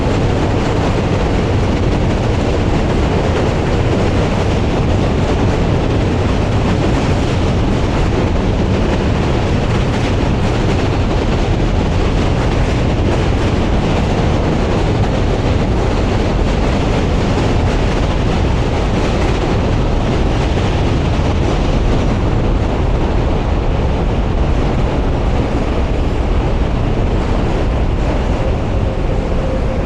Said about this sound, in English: There's my train. That's the train I'll be taking home right there.